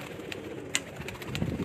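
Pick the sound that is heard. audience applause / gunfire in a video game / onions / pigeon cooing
pigeon cooing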